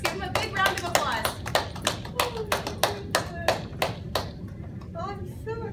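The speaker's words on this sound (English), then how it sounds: "Let's give him a big round of applause." Sparse claps from a small audience after a six-year-old played a piano sonatina, a dozen or so distinct hand claps in loose rhythm, fairly quiet, with a voice briefly at the end.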